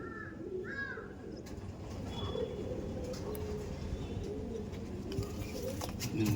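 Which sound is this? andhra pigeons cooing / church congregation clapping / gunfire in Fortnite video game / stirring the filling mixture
andhra pigeons cooing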